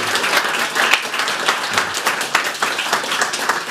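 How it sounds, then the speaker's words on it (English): A conference audience at an open-source event applauds, a dense, continuous burst of many hands clapping that stays fairly loud and even from start to finish. "So round of applause, please, for Shannon and the team."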